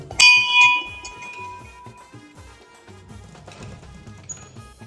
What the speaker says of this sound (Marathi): बेल मारू